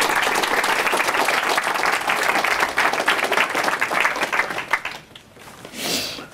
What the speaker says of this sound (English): big round of applause for our guest, Martin Bennett.